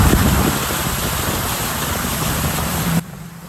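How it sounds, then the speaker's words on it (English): Dense, steady hiss of heavy rain pouring down, loud and unbroken, cutting off abruptly near the end. "Raining cats and dogs."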